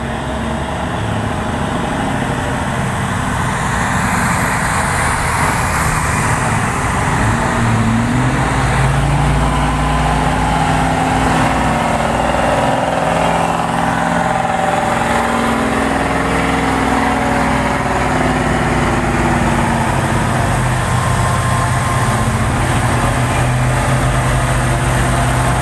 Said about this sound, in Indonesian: truk gerobak mengambil jalur kanan